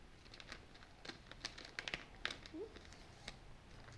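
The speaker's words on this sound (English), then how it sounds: "there are these little bags, plastic bags, where it has the adhesive. So you can slide your case in the bag" Thin plastic adhesive card sleeve bag crinkling softly in close, quiet handling as a trading card case slides inside, with light scattered rustles and small taps.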